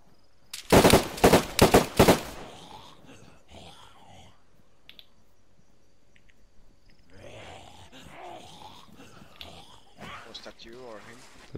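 Rapid burst of gunfire in the video game DayZ, several sharp cracks in quick succession up close, followed by quieter whispered talk and faint background sounds.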